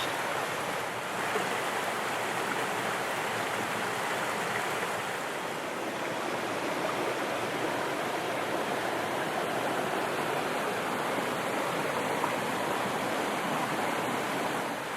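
Creek flowing over rocks at a ford on the False Gap route in Greenbrier, Great Smoky Mountains National Park: a steady, dense rushing of water, close and loud, continuous throughout with no voices.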